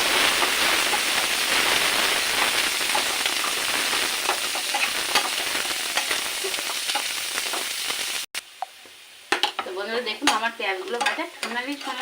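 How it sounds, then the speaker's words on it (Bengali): Chopped onions fry loudly in a pan for a chicken roast, a dense, close, crackling sizzle with stirring that cuts abruptly to a quieter, popping simmer. "এক কাপ পেঁয়াজ কুচি লাগবে তবে একদম কাপের মাপে পেঁয়াজ কুচিটা দিচ্ছি"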